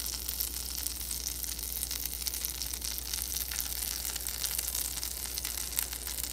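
Brook trout seasoned with lemon pepper and salt frying in a pan, a steady soft sizzle of constant texture throughout, fairly quiet and with no voices.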